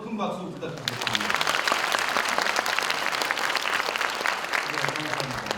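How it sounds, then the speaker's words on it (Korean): Graduates and guests at a university degree ceremony break into applause for the professors; after a brief spoken moment the clapping swells into a loud, sustained crowd ovation lasting several seconds. "교수님들을 향해서 큰 박수 부탁드리겠습니다."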